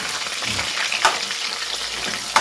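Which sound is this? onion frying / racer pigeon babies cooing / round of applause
onion frying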